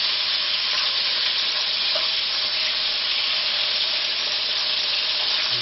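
Elk liver and onions dredged in flour fry in a hot pan, a loud, steady, close sizzle that runs without a break.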